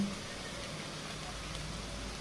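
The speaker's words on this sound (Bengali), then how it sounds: "মশলাটা একটু ভেজে নেব।" Onion, garlic and ginger paste with spices fries in oil in a pan for a spicy chicken curry, giving a steady, close, even sizzling hiss that holds for the whole stretch with no pauses.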